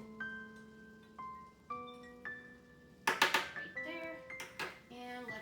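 Metal spoon clinks repeatedly against a bowl while scooping out a small piece, bright ringing taps at uneven intervals, with a cluster of rapid clatters in the middle.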